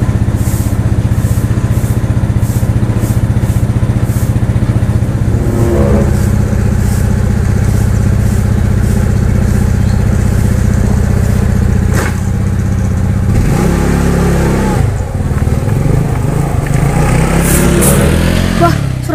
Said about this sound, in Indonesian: Motor aing tah.